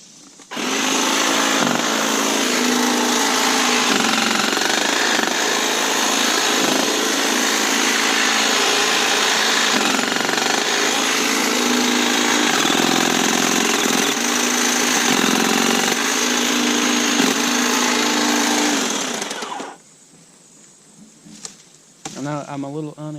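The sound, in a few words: Kobalt 40v Max hedge trimmer cutting a small tree limb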